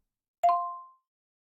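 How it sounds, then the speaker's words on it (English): A single short bright chime from a mobile phone message notification, close and clean, ringing out for about half a second in silence. "At the same time, a message showed up on Mummy's phone."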